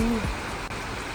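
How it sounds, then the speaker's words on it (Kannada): Rain beginning to fall on a monsoon ride near Kankumbi in the Belagavi hills: a steady, even hiss fills the short moment, with a brief low tone at the very start. "ಮಳೆ ಬರೋಕ್ಕೆ ಸ್ಟಾರ್ಟ್ ಆಯ್ತು ನೋಡ್ರಿ"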